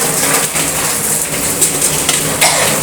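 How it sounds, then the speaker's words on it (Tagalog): Papaya and ginger stirred in a pan, with a steady sizzle and a few scraping clinks of the utensil against the pan, close and fairly loud. "Hinalo-halo na po ni Aling Marisa ang kanyang papaya"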